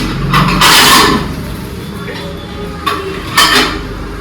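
Plates and dishes clatter as they are handled and stacked, with a sustained burst of ceramic clinking followed by two sharper knocks, close by, while people talk faintly in the background.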